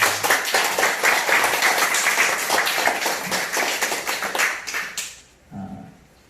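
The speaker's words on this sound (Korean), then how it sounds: "박수 한번 쳐드릴까요?" Audience at a Buddhist dharma service applauds donors, a dense burst of many hands clapping that fades out near the end, followed by brief quiet and a faint voice.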